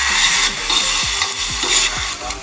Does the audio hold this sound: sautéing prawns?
yes